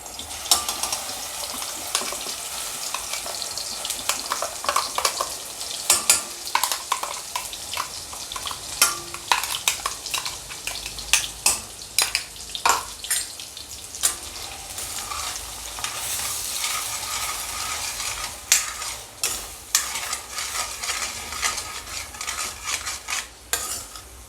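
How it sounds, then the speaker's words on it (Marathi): Spice masala sizzling in hot oil with a bay leaf, stirred with a spoon scraping the pan; steady bright frying hiss broken by frequent clinking, scraping strokes, no talk. "गरम झालं आहे आपलं तेल आता यात टाकून देऊ आपला जो मसाला केला होता आपण तो"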